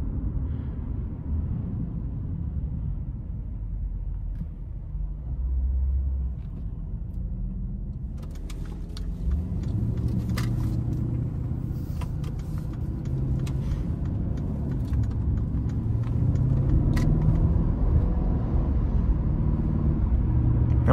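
A 2020 Mercedes-Benz SL550 cruises on light throttle in comfort mode, its low engine and road rumble steady throughout and swelling slightly toward the end, with faint clicks and ticks above.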